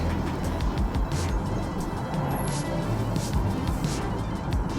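A car drives through downtown Bangor, Maine, heard from inside as a steady low road and engine rumble with a few passing swells, continuous and moderately loud, no talk.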